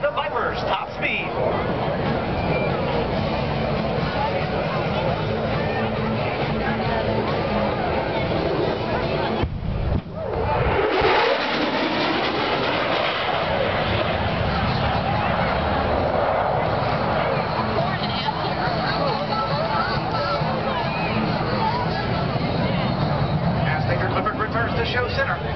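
Loud, continuous roar of an F-16 Viper jet on a low-altitude, high-speed pass at an air show, a broad rushing wash that briefly dips midway before surging back, steady and powerful throughout with a murmur of crowd noise beneath.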